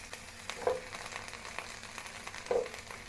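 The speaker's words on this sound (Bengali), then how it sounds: "চুলা লো ফ্লেমে রেখে হালকা ফ্রাই করে নিয়েছি" Onion and capsicum pieces frying lightly over a low flame in a pan, a soft steady sizzle with faint stirring scrapes and a couple of brief clinks.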